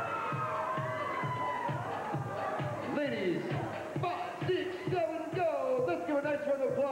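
A pageant audience cheers, whoops and shouts for Miss California USA 2006 contestants, with rhythmic clapping and excited voices rising and falling while an announcer talks over the crowd.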